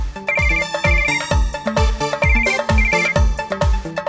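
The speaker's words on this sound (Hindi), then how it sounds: "समीर फोन कर रहा है, प्लीज उठा लेना।" A phone ringtone plays a repeating electronic melody, loud and close, looping several times with no other sounds.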